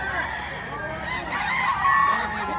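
A Henny Blues rooster at a livestock auction market vocalizes with clucks and crowing-like calls, close and fairly loud against the bustling background of the sale floor.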